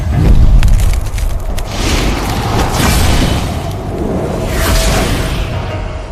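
A sky-shaking hammer strike lands as a massive, sustained explosion effect. It is a loud, continuous roaring boom with heavy low rumble and swelling surges, holding at full intensity for several seconds with no voices over it.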